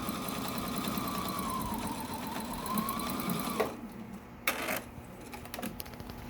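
A sewing machine runs steadily as it stitches a quarter-inch seam on a fabric mask, with a continuous whirring drone and rapid needle chatter that stops partway through, followed by a few light clicks and handling noises.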